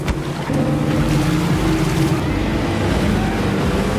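A motorboat in a chase on open water roars with a steady, loud, close engine drone, churning water and wind underneath, and no voices.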